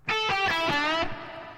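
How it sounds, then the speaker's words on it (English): A short distorted electric guitar blues lick, a quick run of bent notes played once, loud and close, ringing out briefly at the end. "He used to use this lick a lot, and it would sound like this."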